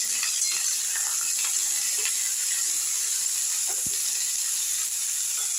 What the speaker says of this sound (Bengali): এইগুলোকে একটু নেড়ে আমি ভালো করে ভেজে নেব।